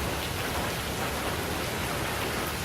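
Heavy rain pours down on Pulau Ubin in Singapore, a dense, unbroken hiss of drops drumming on surfaces, loud and close throughout.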